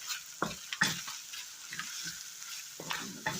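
Tomato paste sautéing in a pan for homemade spaghetti sauce: a steady close sizzle with several sharp scrapes and clacks of a spoon stirring at irregular intervals, no voices.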